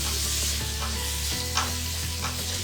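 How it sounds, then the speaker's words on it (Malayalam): Masala powders and chili powder sauté in a pan for a chicken biryani-style rice dish, making a steady close sizzle broken by rhythmic spoon scrapes and small knocks against the pan, with no voices. "ഇത് നല്ലവണ്ണം ആ മുളക് പൊടിയൊക്കെ ഇട്ട് വഴറ്റുക"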